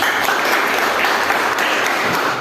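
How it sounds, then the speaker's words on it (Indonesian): Students in a classroom clapping together, a loud, continuous burst of applause close by, dense and even from start to finish with no pauses. "Ya, tepuk tangan lagi nak."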